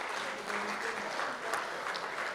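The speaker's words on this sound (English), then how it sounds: "Can we give them a round of applause?" Steady applause from a crowd at a charity golf day prize-giving, a dense even wash of clapping with no breaks, moderately loud and slightly distant.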